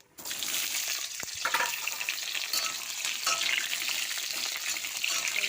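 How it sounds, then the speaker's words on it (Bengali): Pointed gourd fries in hot oil in a home kitchen, the same oil just used for fish, giving a loud, close, continuous sizzle with occasional stirring scrapes and no talk. "ওই তেলেই পটল ভাজা বসিয়ে দেবো।"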